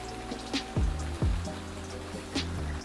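Rain falls outside an apartment balcony, a soft steady patter with a few louder drips and splashes close by, alone without talk.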